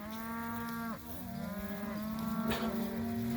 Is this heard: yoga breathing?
no